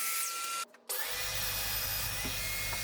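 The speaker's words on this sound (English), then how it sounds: "Cutting them to final length here on the drop saw" Drop saw cutting recycled timber pieces to final length: a loud, steady motor whine broken by a brief drop in sound, then the blade running on with a low humming undertone, close and without speech.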